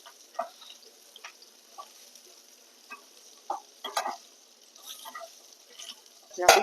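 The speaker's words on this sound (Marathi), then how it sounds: "ह्याच्यावर आपण हिंग टाकून घेऊ आपली मिरची छान अशी परतले" Green chillies frying in a pan with asafoetida for a spiced yogurt-chilli dish give a soft, steady sizzle, broken by scattered clinks and scrapes of stirring and one sharp knock near the end.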